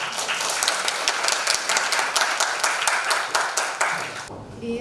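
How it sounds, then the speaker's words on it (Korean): Students and faculty at a university library book concert applaud to welcome the host, a steady burst of clapping that holds for several seconds before cutting off abruptly near the end. "박수 부탁드립니다."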